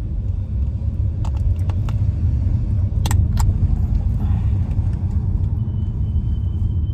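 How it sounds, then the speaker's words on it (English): Car brakes give several short, high squeaks, some in quick clusters, over the steady low road rumble inside the moving car. "These brakes are still sounding over here."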